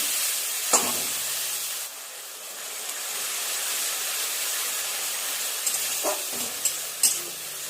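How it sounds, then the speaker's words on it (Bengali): Ginger, garlic and tomato spice paste frying in a pan, giving a steady loud hiss of sizzling with a few brief scrapes of stirring. "একটু নেড়ে চেড়ে সমস্ত মশলাটাকে এইভাবে একটু ভেজে নেব, কাঁচা গন্ধগুলো চলে যাবে"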